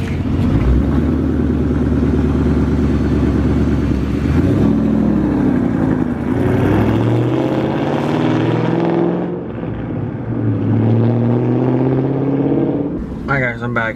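A car engine fitted with Pacesetter long tube headers and an H-pipe revs up and settles several times, loud and close, its exhaust note rising and falling in steady pulls.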